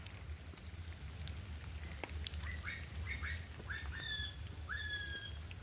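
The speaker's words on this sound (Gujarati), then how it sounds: "અહીંયા ઘાસ પક્ષી અવાજ પણ કરે છે" Several birds call near a pond in Sneh Rashmi Botanical Garden, Surat, a series of short rising squawks and quacks repeating over a soft, steady background hiss.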